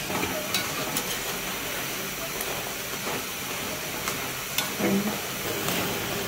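Namak pare dough frying in hot oil over medium heat, a steady dense sizzle and hiss running throughout, with occasional sharper crackles and pops.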